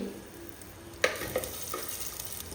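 Chopped ginger and garlic frying in ghee with curry leaves, a soft steady sizzle broken by one sharp spatter or stir clank and a smaller knock soon after, close and fairly quiet.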